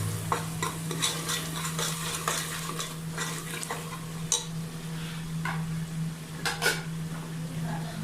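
Spiced masala with ground cumin frying in a pot, a spoon clinking and scraping against the metal in irregular strokes over a low steady sizzle, with a faint background hum.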